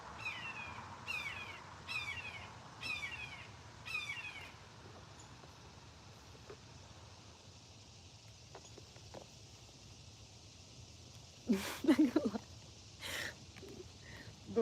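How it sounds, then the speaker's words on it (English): A bird repeats a short, sharp chirping warning call about four times in quick succession early on, moderately near, and then falls quiet, followed by a few scattered knocks and rustles. "The bird, it's like okay, that sounds like a warning sound"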